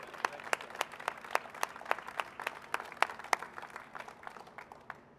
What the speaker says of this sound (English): Give a big round of applause to Mayor Fisher